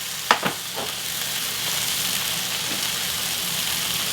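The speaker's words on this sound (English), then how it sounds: "And then we add the noodles" Drained, rinsed noodles go into a hot pan with kimchi and meat for dan dan noodles, a couple of soft clatters at the start followed by a steady, even sizzle and frying hiss.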